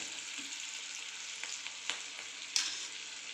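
Green chillies fry steadily in a pan, giving a continuous close hiss with soft crackles and a couple of sharper pops near the end; no one talks.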